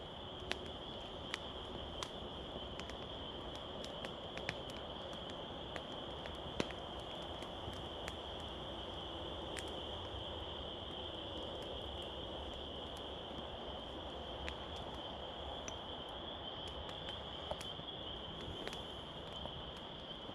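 A steady, high-pitched chorus of tree frogs calls continuously through the night, with a few faint clicks and taps nearby and no talking.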